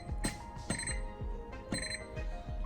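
A kitchen oven timer alarm beeps repeatedly in regular bursts, loud and close, during keto pizza baking, with no talking over it.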